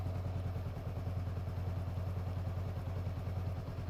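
A Honda motorcycle engine runs steadily at idle nearby, a low, even, pulsing rumble that continues throughout without speech.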